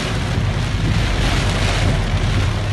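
A car wades slowly through floodwater on a flooded Belgrade street, pushing up waves: a continuous rushing, sloshing wash over a low engine rumble, steady and close, with no talk.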